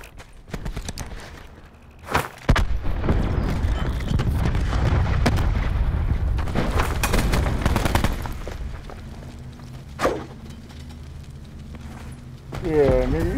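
A grenade blast bursts sharply in the video game Call of Duty Black Ops 4 amid rumbling gunfire and heavy battle noise, with later booms. Players talk loudly over the din.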